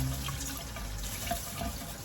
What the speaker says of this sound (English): turn on the water, some cold water, and you just rinse them.